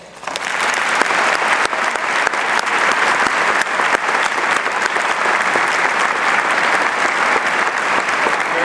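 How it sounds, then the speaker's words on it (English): An audience at a Delaney High event breaks into loud, sustained applause, many hands clapping densely and evenly for several seconds without any talking. "I think they deserve a big round of applause"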